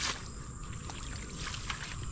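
Water overflowing in a farm irrigation channel, a continuous close rushing and gurgling flow with no speech over it.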